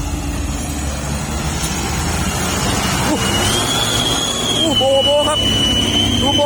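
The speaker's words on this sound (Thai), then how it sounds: "เครื่องยนต์นี่กระหึ่มครับ" A heavy dump truck engine roars steadily and loudly, a deep continuous rumble with rising whines, while people talk over it, as the truck climbs out of a pit in Chumphon Buri, Thailand.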